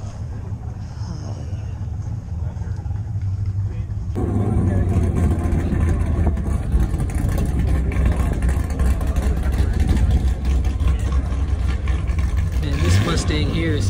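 A car with side exhaust pipes rumbles at a cars-and-coffee meet, its engine note growing louder and fuller after a few seconds and holding a steady, throaty drone, with people talking underneath.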